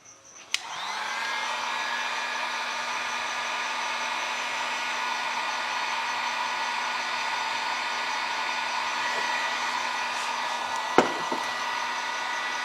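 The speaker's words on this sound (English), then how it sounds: "with the heat gun here first." A heat gun blows steadily at close range while heating a temperature sensor on a HYPERY LiFePO4 12V 100Ah battery, a constant whooshing fan roar with a faint click near the start and another near the end.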